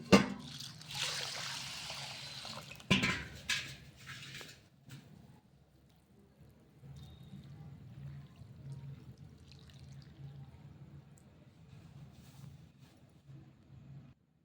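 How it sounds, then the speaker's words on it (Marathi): Water splashes into a bowl of sago pearls, loud at first with a gush, then settling into a quieter steady trickle that runs on for several seconds. "इथं टाकणार आहे आता पाणी"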